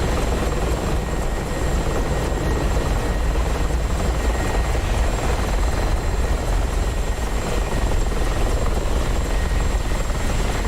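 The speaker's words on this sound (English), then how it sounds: "We've got chopper noise instead." A helicopter in a flight simulator game drones with a loud, constant rotor and engine roar that stays steady throughout, with no talking.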